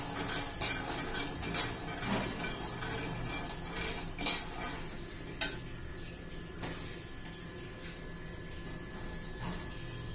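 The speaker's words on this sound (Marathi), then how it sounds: "त्यासाठी लागणारे साहित्य हे शेंगदाणे आपण प्रथम भाजून घेऊया" Peanuts dry-roasting in a pan over a medium gas flame, heard as scattered close ticks and rattles as the nuts shift and knock against the metal, with no speech.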